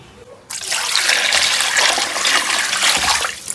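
Tap water gushing loudly while scorched pork is washed, starting abruptly after a brief quiet moment and continuing as a steady close splashing rush.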